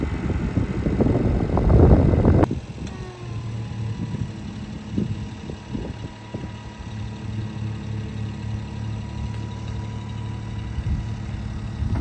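A small mini truck used to haul a chicken tractor on an off-grid homestead, its engine idling steadily at low pitch after a louder opening burst, with a few faint knocks over the hum.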